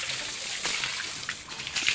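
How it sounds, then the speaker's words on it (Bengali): Water sprays and splashes onto cows being washed, irregular close spurts and splatters over a soft hiss. "কোথায় কোথায় পানি মেরে দিচ্ছে আমার।"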